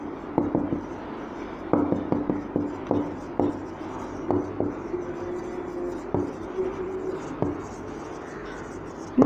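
Pen writing on paper during a maths lesson on compound interest, a run of close, short scratchy strokes and taps in an uneven rhythm.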